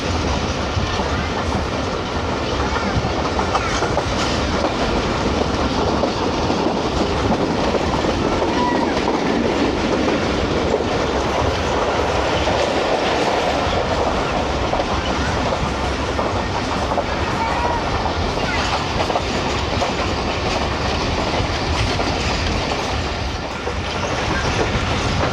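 Passenger train on the Faisalabad to Lahore route rolling through a station without stopping, heard from on board as a steady loud rumble with clickety-clack of wheels over rail joints throughout.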